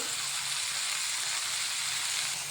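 Chopped okra cooks with chilies and tomatoes in a pan, giving a steady, even sizzle of frying that runs unbroken at a moderate level with no talk over it.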